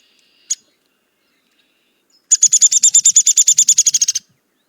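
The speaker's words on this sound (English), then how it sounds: "So it's that very rapid one-pitch call" A downy woodpecker gives a single sharp call, then after a pause a rapid, even series of about twenty high-pitched notes on one pitch, clear and close against silence.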